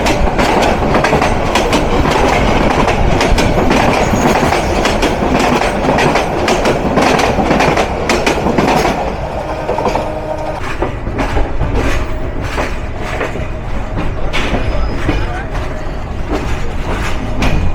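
Jamuna Express intercity train running from Tarakandi toward Dhaka, heard from on board as a loud, continuous rumble with rhythmic clickety-clack of wheels over rail joints, briefly easing before the clatter resumes.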